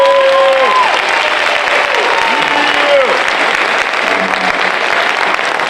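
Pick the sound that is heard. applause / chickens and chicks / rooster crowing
applause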